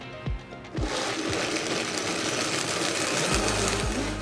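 An electric blender whirs steadily at close range, pureeing garlic and sherry vinegar into a paste, with a loud continuous motor hum after a brief startup clatter.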